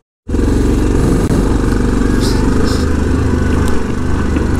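A Yamaha Grizzly 700 SE quad creeps down a steep rocky off-road slope in Sardinia on engine braking, its engine droning loud, close and steady throughout, without talk.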